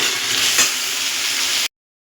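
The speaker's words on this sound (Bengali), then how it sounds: "এটাকে গ্যাসটাকে একটু বাড়িয়ে আমি ভাজা করে নেব।" Potatoes with turmeric fry in a pan over a gas stove, giving a loud, steady close-up sizzle that runs without pause and then cuts off abruptly.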